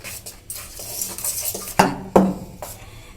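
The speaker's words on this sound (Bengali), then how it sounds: "এটা ভালো করে মিশিয়ে দেবো ব্যাটারের সঙ্গে" A spoon stirs morabba (candied fruit preserve) into a one-egg cake batter in a bowl, giving soft scraping sounds and a few sharp clinks of the utensil against the bowl's side. No voices.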